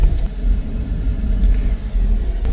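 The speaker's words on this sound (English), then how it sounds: "here comes a Kia" A Kia car passes on a gravel road in open country, heard as a low, steady rumble of tyres and engine that stays fairly constant throughout.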